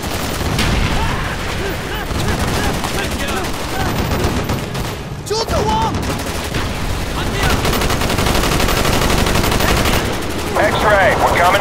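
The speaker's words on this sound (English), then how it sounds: "Stand by for strafing run." Sustained heavy gunfire from a strafing run in Call of Duty: Black Ops, with dense rapid automatic bursts and booming impacts filling nearly twelve seconds at a loud, steady level, briefly easing midway before resuming.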